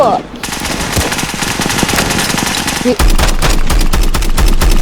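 A light machine gun in the Roblox video game fires in long, rapid, continuous bursts, loud and close, with a brief break near the middle before the fire resumes.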